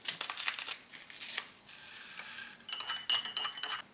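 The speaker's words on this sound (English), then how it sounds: "let's also mix up the coffee while we're at it." A spoon clinks and scrapes inside a cup while coffee from a 2015 French RCIR Menu 4 ration is mixed with hot water, with quiet, close, irregular metallic taps in short clusters and a pause in the middle.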